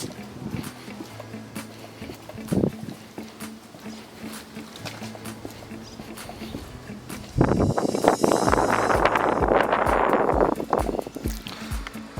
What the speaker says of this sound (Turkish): dışarıda biraz rüzgar sesi olduğu için